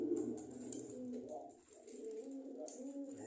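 A pigeon coos near its rebuilt nest, soft low throaty warbling calls repeating faintly and fairly close, with light outdoor background noise and occasional faint chirps.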